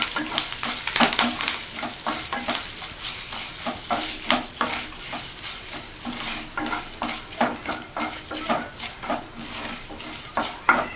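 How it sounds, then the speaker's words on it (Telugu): Curry leaves and turmeric frying in oil for a tomato coriander chutney tempering: close crackling sizzle punctuated by frequent rhythmic spatula scrapes and taps against the pan, with no one talking. "పసుపు కూడా వేసుకొని కొంచెం ఈ ఆయిల్లో ఫ్రై అవ్వనివ్వాలి"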